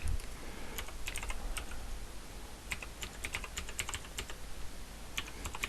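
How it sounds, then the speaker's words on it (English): A username is typed on a computer keyboard: a run of quick, light key clicks in uneven bursts with short pauses, close and fairly quiet, with no voice. "So I'll just type that in."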